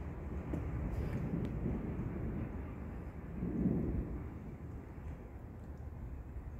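Thunder from a severe thunderstorm with lightning in southeastern Pennsylvania rolls as a continuous low rumble, swelling briefly louder near the middle before settling back into a steady distant growl, with no talking.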